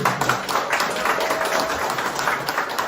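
Audience applause in a small meeting room at the National Assembly library, given for party leader Han Dong-hoon at an education gathering: dense, steady clapping filling the whole stretch with no break.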